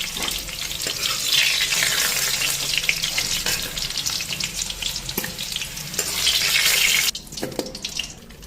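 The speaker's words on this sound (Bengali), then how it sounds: "পরে চিকেনগুলি হালকা ফ্রাই করুন" Chicken fries in a pan with a loud, steady sizzle, broken by a few clinks and stirring knocks, and the hiss drops briefly near the end.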